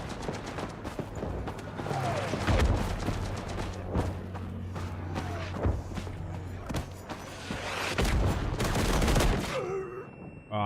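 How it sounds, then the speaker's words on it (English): Battlefield explosions and dense gunfire in the WWI video game Gallipoli, a grenade blast among repeated sharp bangs and rattling shots, loud and continuous throughout with faint voice chatter underneath. "I think that was a grenade."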